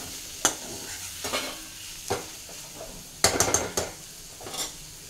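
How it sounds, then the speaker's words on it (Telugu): Dill leaves frying in a pan on a low flame are stirred with a spatula, giving a soft steady sizzle punctuated by several sharp scrapes and clinks against the pan, close and clear with no talking. "ఒకసారి మూత తీసి కలుపుకుందాం. అడుగు అంటేస్తూ ఉంటుందండి, మధ్య మధ్యలో కలుపుకోవాలి."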